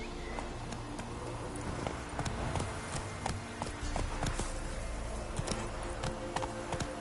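Hooves of the horse Roach clip-clop steadily at a trotting pace in The Witcher 3, a fairly faint rhythmic patter set against a constant game ambience, with no speech.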